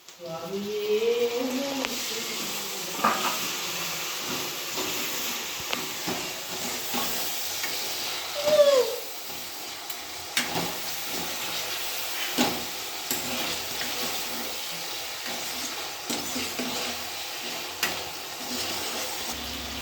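Chopped tomatoes and salt sizzle and fry steadily in a pan for an Andhra-style egg curry, with repeated scraping stirs of a spoon and occasional hissing bursts, close and continuous throughout.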